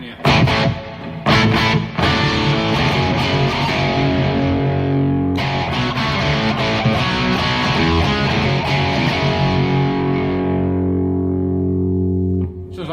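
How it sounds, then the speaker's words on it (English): Distorted electric guitar chords through a Marshall Plexi amp with reverb ring out loud with a reverberant tail, a few sharp strums early, then sustained chords that slowly decay near the end. "So this is a Marshall Plexi with a bit of reverb on it, as you can hear."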